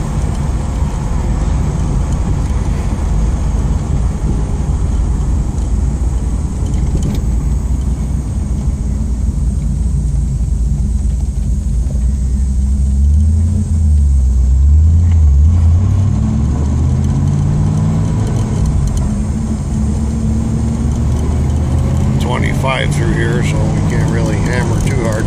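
A 1986 Camaro drives along with a constant loud engine drone and road rumble, the low hum rising and falling slightly over a long stretch, with voices faint underneath.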